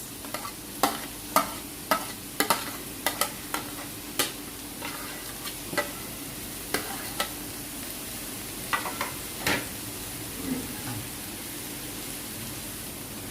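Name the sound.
stir-frying vegetable fried rice with green onions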